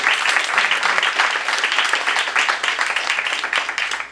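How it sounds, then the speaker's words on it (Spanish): Audience at a 2019 cultural heritage seminar in CULagos applauds to welcome two presenters, a sustained, dense clapping that stays loud and even for several seconds without speech. "un aplauso para recibir a nuestros dos expositores"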